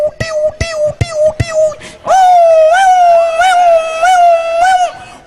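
A man in a lively religious talk imitates an ambulance siren with his mouth, a loud wailing, rising and falling tone after a few sharp syllables at the start.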